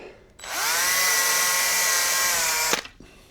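A power drill drilling pilot holes whirs at high speed for about two seconds, revving up, holding steady, then cutting off abruptly.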